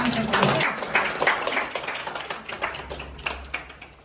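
An audience at a 2024 Boston meet and greet with a singer of Ace of Base breaks into scattered, close applause that tapers off over a few seconds, with a voice heard briefly at the start.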